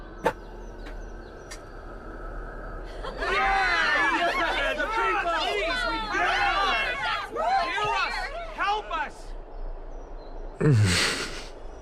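Excited crowd chatter at an assembly in the Honkai Star Rail video game, a dense babble of many voices rising after a few seconds and holding steady, close and lively.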